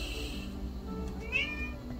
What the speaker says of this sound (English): I think my kitty is hungry.